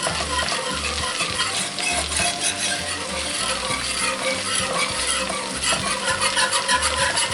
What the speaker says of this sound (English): Stir that in quick.